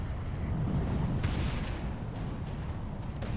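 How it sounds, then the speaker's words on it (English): A big cannon fires in the Warhammer 40,000: Space Marine video game, a sustained heavy roar of booming, artillery-like blasts with rumbling low end, loud and continuous throughout. "The big old cannon."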